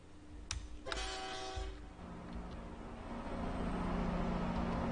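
A locomotive fitted with a plow, running in a storm in Train Simulator, gives a brief horn blast and then a low rumble that builds steadily as the train pulls away.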